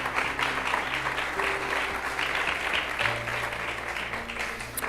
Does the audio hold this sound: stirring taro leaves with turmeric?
no